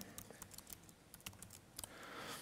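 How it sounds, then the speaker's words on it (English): Quick, irregular keystrokes clatter on a computer keyboard, soft and close, with no talking. "there's also a little bit of typing"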